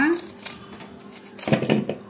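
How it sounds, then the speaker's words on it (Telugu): A knife cuts a large, crunchy guava into pieces: a few light clicks of the blade, then a short, louder burst of crisp cutting near the end, with someone talking over it. "ఫస్ట్ జాంకాయ ముక్కలు కోస్తున్నా."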